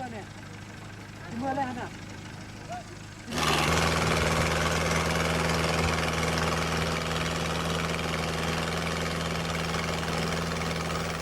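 A riverboat engine on the Nam Hu river in Laos starts abruptly after a few quiet seconds with faint voices, then settles into a loud, steady, close drone.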